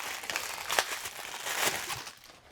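Sealed plastic packaging around a microphone desk mount is torn open, giving a close, steady burst of crinkling and crackling with a sharper rip partway through that fades near the end.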